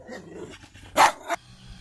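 A dog barks a couple of times at moderate distance outdoors, two sharp bursts close together, with quiet surroundings before and after.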